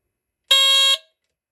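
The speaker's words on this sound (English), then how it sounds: "put one right here and one right here, and short them, that tests the alarm horn." A single loud electronic alarm horn on a BRK 77R smoke alarm blares for about half a second, a steady piercing tone with bright harmonics, then cuts off into silence.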